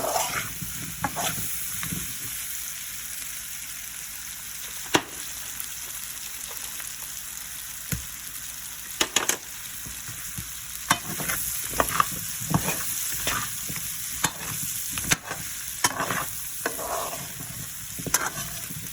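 Chicken, peppers and potatoes sauté in butter on low heat, a soft continuous sizzle with scattered pops and occasional scraping stirs of a utensil in the pan, close up and without speech.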